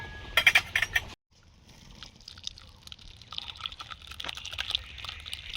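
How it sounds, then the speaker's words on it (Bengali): Whey is poured off freshly curdled chhena. A few bright clinks of the vessel come first, then a soft, trickling pour of liquid runs on close by. "ছানাটা কি সুন্দর কেটে গেছে, জল বেরিয়ে গেছে, এই যে। এবার ঢেলে নেব।"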